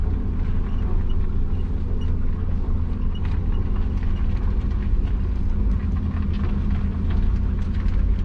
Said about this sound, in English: Just going to be cruising down some suburban streets, so very light on the throttle.